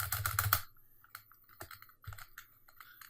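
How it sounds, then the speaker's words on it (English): Hard banging and rapid typing on a computer keyboard at a desk, starting with a loud burst of clattering keys, then scattered lighter key taps and clicks. "I should really not bang on my keyboard like that."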